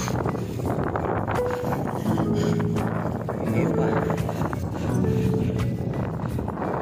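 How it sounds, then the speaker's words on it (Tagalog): Steady headwind buffeting the microphone on a coastal road loop in Catanduanes, a low rumbling roar throughout with a voice talking faintly underneath. "Isang hangin. Salubog pa sa akin. Headwind."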